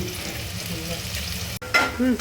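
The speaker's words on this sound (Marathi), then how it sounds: "फोडणीला कांदा घालूया तेलामध्ये आपण।" Onion dropped into hot oil for tempering, a brief close burst of sizzling and stirring that swells sharply near the end.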